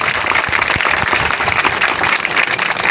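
An audience at a Rajasthani devotional gathering claps to welcome a revered guest, a steady, fairly loud ripple of many hands with a few sharper claps standing out, lasting the full few seconds.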